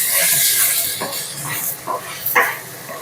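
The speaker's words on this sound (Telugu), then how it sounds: "సన్నగా పొడవుగా కట్ చేసుకున్న వంకాయ ముక్కలు వేసుకొని వేయించుకోవాలి." Thin, long eggplant slices with turmeric fry in a pan on medium flame, giving a bright hissing sizzle that rises and falls in short bursts.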